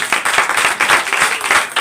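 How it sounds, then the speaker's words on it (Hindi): A church congregation claps hands together in thanks during a Christmas service, a dense, fairly loud burst of many hands clapping with a quick uneven rhythm for a couple of seconds. "और यीशु मसीह की एक बार ताली बजा के धन्यवाद देंगे।"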